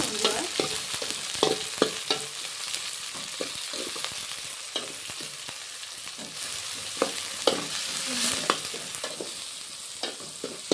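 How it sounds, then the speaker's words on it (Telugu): A tomato, chilli and curry leaf masala fries in oil with a busy sizzle, broken by repeated scraping strokes of a spoon or spatula stirring the pan throughout. There is no speech. "బాగా ఎర్రగైనంత వరకు మనం నూనెలో మగ్గేంత వరకు ఇట్లే అనమాట బాగా కలుపుతూనే ఉండాలి"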